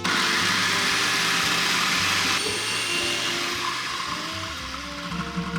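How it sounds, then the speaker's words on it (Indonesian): Kitchen blender whirring a mixture of sugar, salt, vanilla powder and UHT milk for steamed buns, a loud steady motor drone that shifts pitch and eases slightly as the contents smooth out, no talk. "Terus kita blender sampai halus ya."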